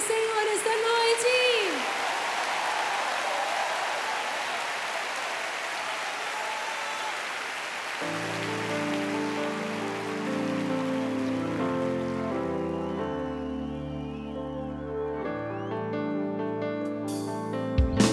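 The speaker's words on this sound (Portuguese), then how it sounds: "aplaudir o Senhor esta noite" Worship concert crowd applauding for a long stretch, a dense roar of clapping like heavy rain. A brief voice cries out at the start, and sustained keyboard or synth chords enter midway and grow beneath the fading applause.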